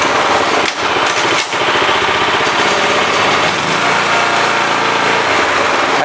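Small ISEKI walk-behind tiller engine running in reverse, a loud, close, steady high-revving drone with brief dips, continuing throughout.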